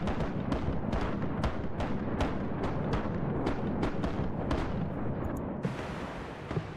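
Ship cannons fire again and again in the pirate video game Rise of Piracy, a fast run of loud booming blasts at a steady pace, fading into rumbling as the shots stop.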